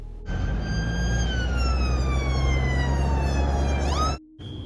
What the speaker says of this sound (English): the silence of Bluebell Close is shattered by the screaming sirens of emergency vehicles